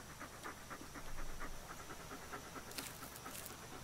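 A dog pants steadily and quickly in soft, close breaths during a music video, with a brief brighter hiss near the end.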